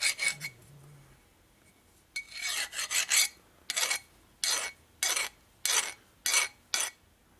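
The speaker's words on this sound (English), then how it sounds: "Take your little dull file and just run across your surfaces." A small dull file rasps across engine part surfaces of a 1977 1000cc Sportster Ironhead motor, a few faint scrapes followed by a series of regular, evenly spaced strokes, close and clear.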